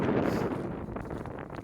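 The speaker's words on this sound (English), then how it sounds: "it's a little windy" Steady wind blowing across an open campsite on a long-distance hiking trail, a continuous rushing roar that stays loud and close throughout with no talking.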